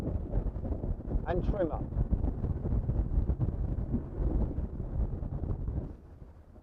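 Wind roaring across a motor boat's microphone as the boat swings through a turn, loud buffeting gusts with engine rumble underneath, easing near the end, with someone speaking briefly.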